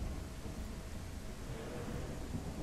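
Storm in The Isle Evrima, a dinosaur survival game, with steady rain and rolling thunder filling the whole stretch as a continuous broadband roar, no voices.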